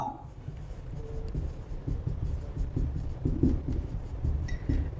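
Steady scratchy strokes of writing on a board, close and continuous with small rhythmic taps, heard without any voices.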